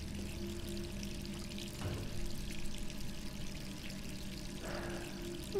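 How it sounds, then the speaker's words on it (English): Water runs steadily from a bathroom tap in the video game Resident Evil 3, a soft continuous pouring with a couple of faint clunks in a quiet room. "So we had the water running"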